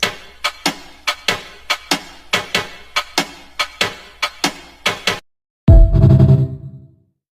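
A rhythmic jazz-kit drum pattern built from Minecraft piston samples with compression, tape delay and reverb: sharp, punchy mechanical hits in a steady groove, ending with a short pause and a final heavier, resonant thud.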